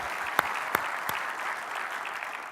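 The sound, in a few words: applause for John Sedine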